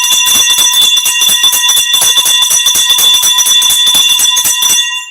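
A new wrestling ring bell rings loudly and continuously, struck in a fast, steady run of clangs with a bright metallic tone, then it stops abruptly.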